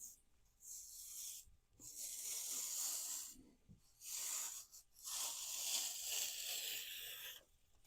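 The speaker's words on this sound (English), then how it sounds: "So now we can peel back the transfer material." Heat press transfer material being peeled off a freshly pressed ice-dyed shirt, heard as several long, close rasping tears separated by short pauses.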